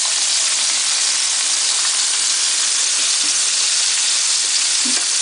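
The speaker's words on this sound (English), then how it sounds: "It's sizzling pretty good." Fish coated in buttermilk batter and flour fries in hot oil with a steady, loud sizzle and crackle throughout, a constant hiss with no voices.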